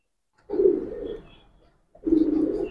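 Giribaz pigeons give two soft, resonant coos, each a sustained throaty call close by, separated by a short quiet pause.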